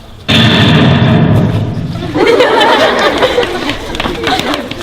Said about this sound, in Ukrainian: Так рвонулася петарда.